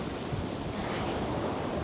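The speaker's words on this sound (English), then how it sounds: "That wind's cranking at the moment." Strong wind blowing across a sea beach during shore fishing, a steady broadband roar with surf mixed in, constant and fairly faint throughout.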